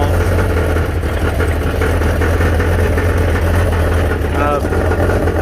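A car engine idles with broken muffler internals rattling loose inside the exhaust, a continuous close, loud low rumble with a buzzy metallic rattle throughout.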